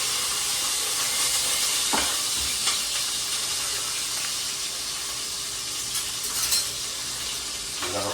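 Chilies frying in oil in a hot pan for a chicken gravy, a constant close hissing sizzle with occasional stirring clicks and scrapes throughout.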